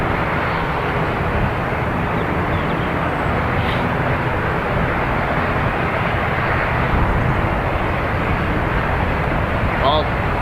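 A departing airliner, flight EI446 from Dublin Airport bound for Santorini, gives a steady, broadband engine roar that holds loud and constant throughout, with no voices.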